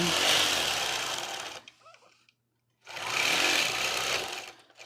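Sewing machine stitching quilting lines through fabric, a steady loud buzzing run that stops for about a second of near silence, then starts up again and runs to the end.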